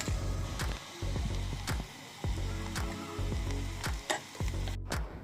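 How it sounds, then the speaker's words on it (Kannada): Onions fry in a pan for an egg fry dish, a steady close sizzle running throughout with several sharp scraping stirs of a spoon at intervals. "ನೀರುಳ್ಳಿ ಫ್ರೈ ಆನಾಗ ಒಂತೆ ಉಪ್ಪು ಪಾಡುಂಡ ಬೇಗ ನೀರುಳ್ಳಿ ಫ್ರೈ ಆಪುಂಡು."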